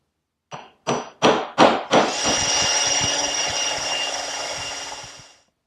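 A hammer taps a steel punch into wood during chairmaking joinery work on stretcher and lower rail mortises. Five sharp, ringing strikes come close together, followed by a long, steady whirring roar that fades out at the end.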